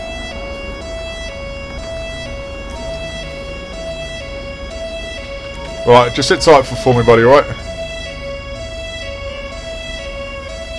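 Several police sirens from the GTA 5 UK police mod wail and overlap in a steady layered tone for the whole stretch, loud and near, while someone speaks briefly in the middle.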